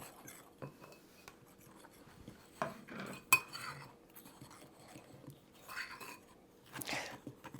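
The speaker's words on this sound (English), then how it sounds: "I like to mix with a fork" Fork clinking and scraping against a bowl while mixing flour, sourdough leaven and sugar for Earl Grey tea bread, with irregular light taps and a few sharper clinks, quiet and close.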